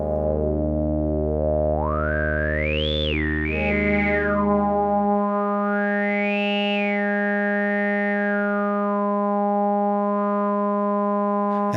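A Rebel Technology Witch synthesizer with its formant pot set high gives a sustained, throat-singing-like drone whose vocal formant sweeps up and down over steady harmonics, playing alone and loud throughout.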